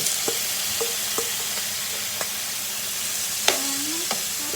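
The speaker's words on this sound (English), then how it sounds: "You want to hear that sizzle." Beef browns in a big hot pan with a steady, loud sizzle and frying hiss, while a spoon stirs and scrapes against the metal in occasional sharp clinks.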